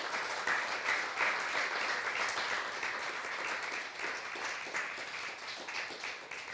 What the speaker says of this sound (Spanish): Vamos a dar un aplauso al Señor en esta tarde.